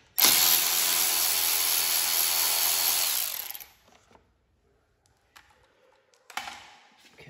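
A ratchet or power tool with a 5/16 socket loosens a bolt on top of a lawn tractor engine. It makes a loud, steady whirring burst for about three seconds, then stops, and a few faint clicks and handling sounds follow.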